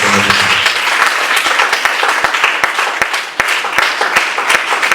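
A church congregation at a sermon breaks into loud, sustained applause, a dense wash of clapping with a few sharper claps standing out.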